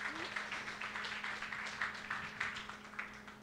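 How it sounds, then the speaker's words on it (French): An audience at a Basque Country digital-technology gathering applauds the mayor, a fairly faint, scattered patter of clapping over a steady low hum in the room. "vous pouvez l'applaudir déjà d'ores et déjà"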